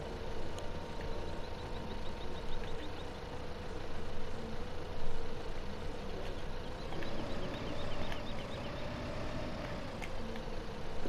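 A tractor engine drones steadily in a farming simulation game, a continuous low rumble with a rising and falling whine as it drives, moderately loud and alone without talk.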